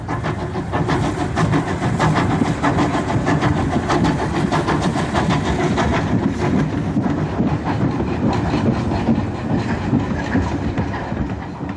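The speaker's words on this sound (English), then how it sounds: "This is a Great Eastern J69 engine, built for the intensive commuter traffic in East London." Great Eastern J69 steam tank engine, a 0-6-0 type, running with a rapid, steady chuffing beat and rhythmic rail clatter, loud and close for the whole stretch.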